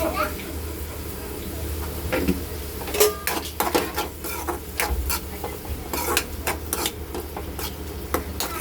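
Paneer bhurji with onion and tomato is stirred in a pan: irregular clinks and scrapes of a utensil against the metal over a faint sizzle, some strokes sharp and close.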